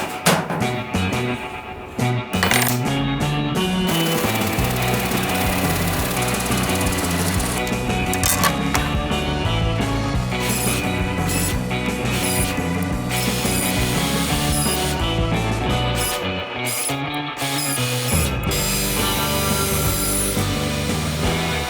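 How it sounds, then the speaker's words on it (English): A woodworking power tool cuts through aluminum during a DIY adventure van build, giving a loud, continuous grinding whine with a ratcheting, mechanical edge that holds nearly unbroken for the whole stretch. "Still blows my mind that it can just cut aluminum with normal woodworking tools"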